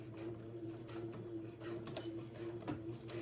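A sewing machine stitching elastic into a fabric casing, a quiet, rapid mechanical ticking and whirring that runs steadily throughout at low volume.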